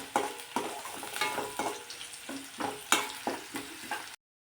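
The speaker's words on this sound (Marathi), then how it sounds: "कांदा लवकर परतण्यासाठी थोडंसं मीठ टाकायचं, म्हणजे कांदा लवकर परतला जातो" Onions sautéing with a little salt in a pan, steady soft sizzle broken by repeated scraping stirs at a quick, uneven pace, close up, with no talking.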